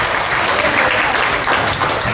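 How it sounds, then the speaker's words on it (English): An audience at a folk festival show applauds loudly and continuously, a dense wash of clapping close and even throughout. "Give her a round of applause for this amazing set."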